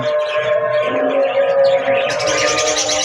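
Pet doves and budgerigars chirp and twitter continuously, with soft cooing mixed in, close and fairly loud, brightening into busier high chirps toward the end.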